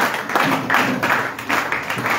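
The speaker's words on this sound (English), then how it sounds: "Can you clap your hands better? Clap better, clap better." A church congregation claps along in rhythm during a lively service, a steady wash of many hands pulsing in loose beats, loud and close, with faint voices mixed underneath.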